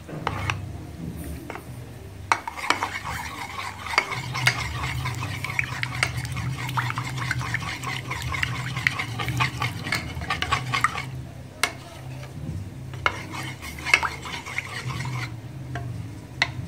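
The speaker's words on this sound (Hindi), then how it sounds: "इसको हमने अच्छी तरह से मिक्स करना है ताकि ये गुठलियाँ ख़त्म हो जाएं।" Spoon stirring a lumpy flour mixture to smooth it out while preparing tikka macaroni, a steady scraping and swirling that runs through the whole stretch, close and fairly loud, with faint kitchen clatter now and then.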